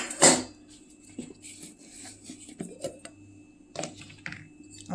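Mint chutney ingredients drop into a mixer jar: a sharp clatter at the start, then a few light knocks and taps against the container with quiet pauses between them.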